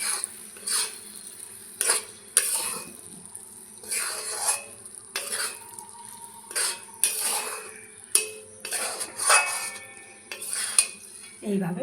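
Spoon scraping and clinking in a pot while mung dal and ash gourd ghonto is stirred with ghee, a series of short metallic scrapes and taps in an irregular rhythm, close and alone.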